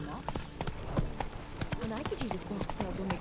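Horse hooves clip-clop at a steady riding rhythm in The Witcher 3, ringing out close and clear as the horse travels through a mountainous area of the game, with faint voice-like sounds mixed in.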